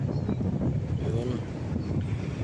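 Strong typhoon wind roars against the microphone, with large waves washing beneath it in a loud, continuous rumble that carries on without a break.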